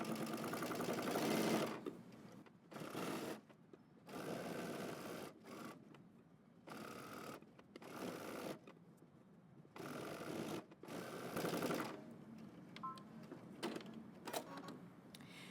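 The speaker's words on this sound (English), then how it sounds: "we're going to stitch close to the edge" A sewing machine stitches close to the edge of a Mimi G dress facing, its motor running in repeated bursts separated by short pauses, loud and close with no talking.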